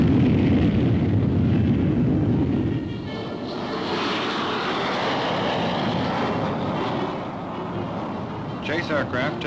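An F-104 Starfighter jet, a Mach 2 aircraft converted to a target drone at Eglin Air Force Base, roars loudly and continuously, the dense broadband thunder easing slightly midway.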